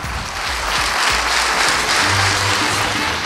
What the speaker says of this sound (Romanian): Aplauze pentru cei șase!